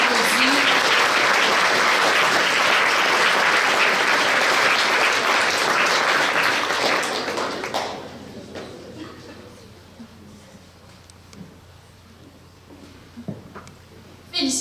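Loud, dense applause from an audience at a regional science expo final honouring college-level medal winners, sustained for several seconds before fading into quieter room noise and scattered sounds.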